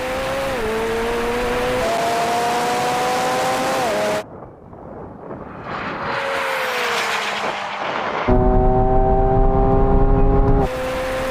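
Supercar from a McLaren, Lamborghini and Ferrari comparison accelerating hard in second gear from 30 mph, a loud rising engine roar climbing in pitch through a gear change, then a second powerful run, close-up with no talk.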